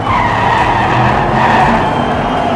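Diecast toy racing cars, including a Corvette C6, a Ford and a Pontiac, speed along a track in a miniature race. The result is a loud, continuous rushing roar of rolling wheels that stays steady and close throughout.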